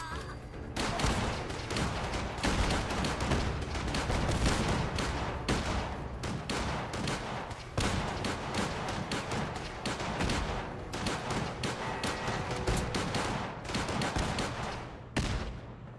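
Sustained rapid gunfire from a pistol in Fallout 4, dense overlapping shots near and loud for the whole stretch, with brief dips between bursts and no talking.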